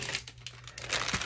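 Plastic bags crinkle as parts are pulled out of them while unpacking for a faux fireplace assembly. A brief, fairly quiet burst of rustling and crackling comes up close.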